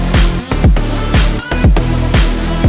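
A synth bass and a detuned sawtooth pad play together in a recreation of a song, pounding out punchy, hard-attacked chords in a steady rhythm, loud and dense with no voices.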